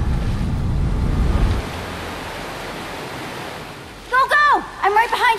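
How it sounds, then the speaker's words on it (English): Waterfalls in the video game Minecraft Story Mode Season 2 give a steady broad rushing wash of water that fades partway through, then a few short high synthetic bleeps come in near the end. "The waterfalls!"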